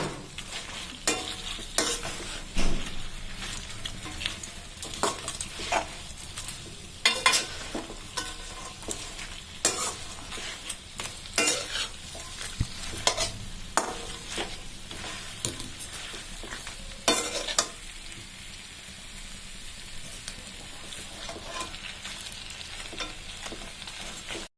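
Fried potatoes for chilli potato are tossed and stirred in a pan, a soft background sizzle punctuated by repeated sharp scrapes and clanks of a spatula against the metal.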